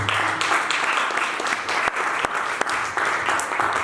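A church congregation applauding Jesus during a sermon: loud, sustained clapping from many hands filling the room, steady throughout with a few sharper individual claps standing out.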